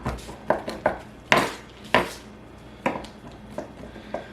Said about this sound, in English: you can go in here and just chop those up just a little finer, which I think I'm going to